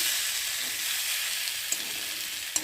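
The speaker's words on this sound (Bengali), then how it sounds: "একটু ভালো করে ভেজে নেবো কচুটা দিয়েছি তো" Pieces of taro frying in a pan, a steady close hiss of sizzling oil with a couple of faint clicks near the end.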